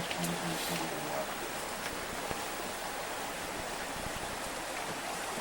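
Creek water flows through a gold-mining rocker box by a creek in Alaska, a steady, close rushing wash of water that continues evenly throughout with no clear breaks.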